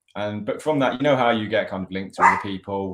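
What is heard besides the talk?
dog barking in the corner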